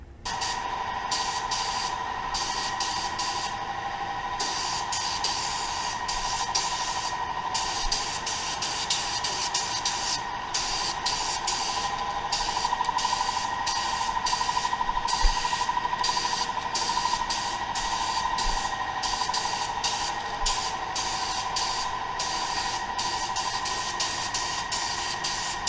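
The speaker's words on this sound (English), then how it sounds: "pour it in the gun, start spraying." A spray gun lays medium gray sealer onto a 1937 Pontiac, a steady broadband hiss that runs unbroken for the whole stretch, close and even, with a constant tonal hum underneath and no talking.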